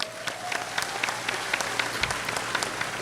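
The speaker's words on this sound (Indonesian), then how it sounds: "Tepuk tangan untuk Real Food." An indoor audience claps in steady, moderately quiet applause for a few seconds, with individual sharp claps standing out from the crowd's continuous patter and no talking over it.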